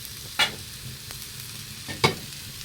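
Onions frying in a pan for freekeh with spinach, a soft steady sizzle broken by two sharp scraping stirs of a spoon against the pan.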